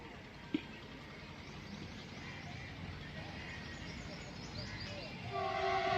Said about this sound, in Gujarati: જો મિત્રો, માલગાડીનું હોર્ન સંભળાઈ રહ્યું છે.